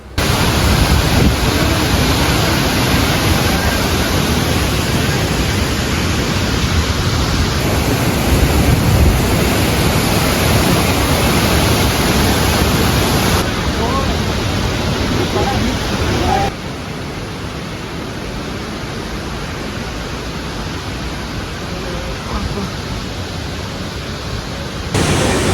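A large waterfall in Andhra Pradesh, a dense, steady roar of falling water filling the whole scene, loud and continuous with a slight drop in level partway through.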